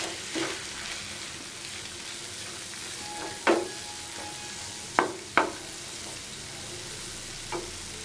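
Okra, or ladies finger, dry roasting in a pan with a faint steady sizzle, broken by a few sharp clinks and scrapes of a spatula scattered through the stretch.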